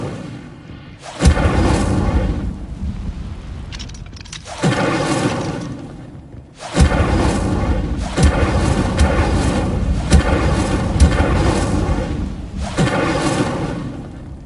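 Incendio fire spells cast again and again in a Harry Potter wizarding video game, each a loud booming, crackling burst that plays in repeated waves with brief lulls between them.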